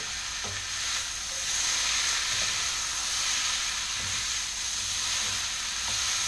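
Spicy peanut long beans and scallops sizzle hard in a hot wok, a loud, continuous frying hiss broken by the scrape and clatter of ingredients being tossed at intervals, with no talking.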